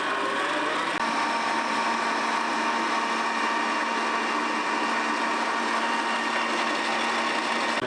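An electric mixer beats sugar and vanilla on low speed for a nectarine cake, a steady, even motor whir running throughout without a break, close and with no talk.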